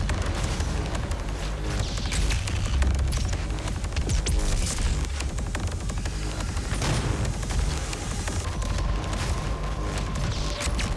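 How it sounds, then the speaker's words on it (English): BFG firing in DOOM on Ultra Nightmare amid a chaotic battle: dense, continuous barrage of blasts, booms and gunfire-like bursts over heavy rumbling music, with sweeping energy surges and no pauses. "The main strategy I like to do for this battle is fire the BFG from one corner to another"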